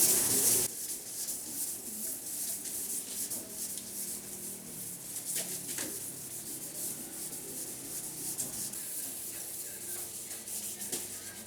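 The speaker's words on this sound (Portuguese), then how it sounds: "vamos lixar aqui com a 1200" Steady dry rubbing of 1200-grit sandpaper over primer on a Toyota Hilux side panel, a continuous close-up abrasive hiss with no speech.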